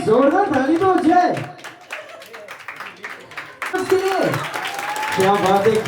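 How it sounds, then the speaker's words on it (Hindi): Clapping rises from the audience at an Indian sangeet ceremony, mixed with loud singing and chatter. The applause comes in scattered bursts rather than a steady roar, with voices dominating throughout. "बस जोरदार ताली दो जय।"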